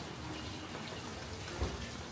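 Rain coming down on Wulai Old Street in Taiwan, a dense steady wash of patter with one brief heavier drop, moderately faint and without voices.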